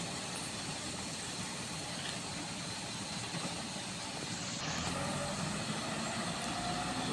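Low, steady rumble of an idling diesel cab-over truck engine heard from nearby, continuous and fairly quiet with a faint hiss and no talk.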